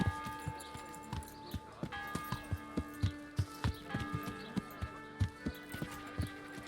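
Horse hooves clip-clop at a steady walking rhythm in the medieval video game Kingdom Come: Deliverance, fairly close and clear over a low game ambience with sustained musical tones.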